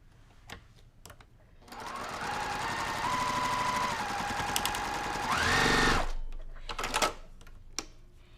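Sewing machine stitching a quilt block in a sustained run of rapid stitches lasting a few seconds, then stopping, with soft handling clicks before and after.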